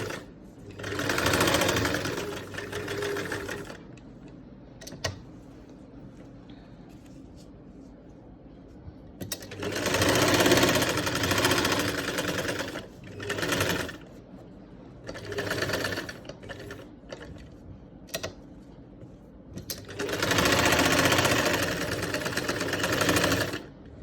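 A sewing machine stitches fabric at a garment neckline in several separate bursts of a few seconds each, with quiet pauses and small handling sounds between the runs.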